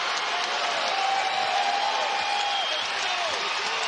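College basketball crowd in Birmingham at a UAB versus FAU game, a broad wash of cheering and clapping that holds steady, with a whistle-like tone weaving through the middle.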